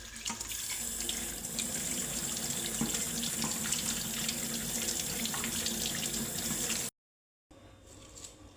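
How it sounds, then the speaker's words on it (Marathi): Tap water running steadily into a sink while chopped vegetables are washed, a close, continuous splashing stream that cuts off abruptly near the end, then resumes briefly. "आता हे सर्व भाज्या आपण स्वच्छ पाण्याने धुवून घ्यायच्या आहेत"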